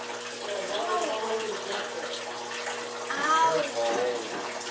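Water pours steadily from a tap into a bucket aboard the Galveston-class cruiser USS Little Rock, a continuous close rush with the pitch rising slightly as it fills.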